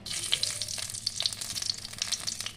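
Bay leaves, dried red chillies and a pinch of five-spice temper in hot oil in a wok; a short burst of lively, close sizzling dense with quick spitting crackles.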